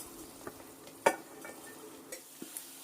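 Potatoes and onions sautéing in oil in a pan, with faint sizzling and a few light clinks and scrapes of a spoon stirring against the pot, quiet and close, with no talking.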